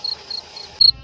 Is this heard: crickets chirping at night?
yes